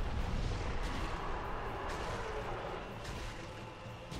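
A bomb in Dark Souls goes off with a deep, rumbling boom that spreads into a long, broad roar and slowly fades, loud and heavy throughout.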